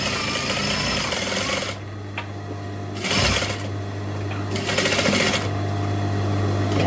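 A sewing machine runs steadily, stitching through leather at a desk, a loud continuous mechanical whir with brief pauses and changes in speed, close up.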